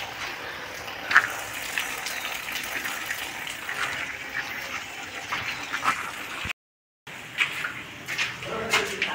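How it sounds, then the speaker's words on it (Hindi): Rainwater pours and gushes down steadily after a rainfall, a continuous wash of falling water with brief people's talk and a short gap partway through. "देखिए, बारिश हुआ है तो पानी गिर रहा है।"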